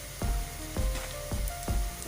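Ginger-garlic paste and green chillies sizzle loudly in a pan of golden-brown fried onions, with a steady hiss broken by regular stirring scrapes about every half second.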